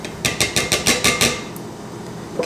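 A scraper works fire cider out of a container into a pint jar, giving a quick series of about seven sharp knocking scrapes, then quieter handling with one last tap.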